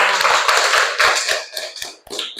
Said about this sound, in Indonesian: Beri tepuk tangan untuk Mas Aska.